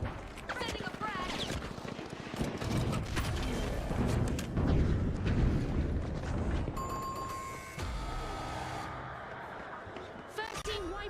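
Grenade blast and gunfire in the shooter game The Finals, a dense barrage of shots and explosions with mechanical clatter running throughout, loud and continuous, while a voice talks over the action.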